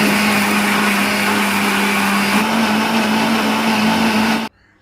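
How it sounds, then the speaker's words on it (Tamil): A mixer grinder grinding dosa batter with water whirs loudly and steadily for about four and a half seconds, then cuts off abruptly into silence. "தண்ணி ஊற்றிட்டு நல்லா நைஸாக அரைச்சிக்கிறேன்"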